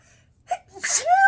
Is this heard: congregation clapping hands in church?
no